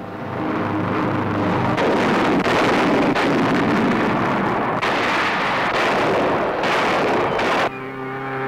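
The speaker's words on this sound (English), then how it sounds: "Automatically aimed, the guns fire." Heavy, continuous booming anti-aircraft gunfire rolls on in rapid bursts, loud and dense like a barrage, with a roaring, wind-like rumble underneath.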